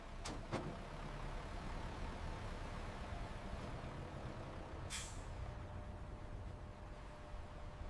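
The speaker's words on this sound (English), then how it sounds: "As the trucks arrive at the sprawling factory" Trucks arriving at a sprawling tomato factory: a low steady engine rumble with a couple of short knocks early on and a loud sharp hiss of air brakes midway.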